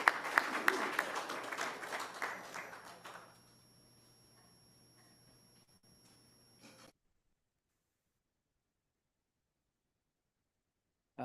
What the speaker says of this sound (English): And please, everybody, let's give a warm round of applause, Mr. Brown here.